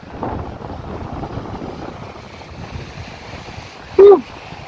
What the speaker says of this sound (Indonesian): Anginnya masih kencang banget, ombaknya juga masih menghantam karang dengan kerasnya.